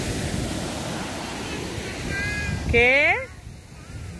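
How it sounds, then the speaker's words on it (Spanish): Rough sea waves on a beach wash and rumble steadily alongside wind noise, and a single short spoken word cuts in near the end. "hay muchas olas. O sea, el mar está muy movido."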